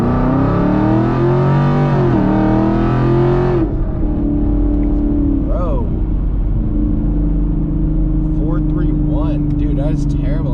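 A sixth-generation Chevrolet Camaro SS with about 500 wheel horsepower on Mickey Thompson drag radials accelerates hard, its loud V8 roar climbing through the revs, breaking at a gear change, then droning on with a voice under it.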